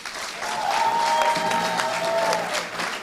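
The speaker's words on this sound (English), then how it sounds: "Round of applause." Sustained applause from a crowd at a startup cohort demo day, clapping steadily throughout with a faint tonal hum underneath.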